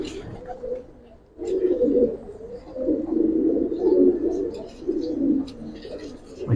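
Silver Giribaz pigeons coo in a nearly continuous run of low, rolling throaty calls, close and moderately loud, after a brief quieter start.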